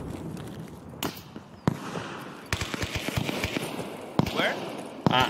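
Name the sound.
grenade explosion in video game Escape from Tarkov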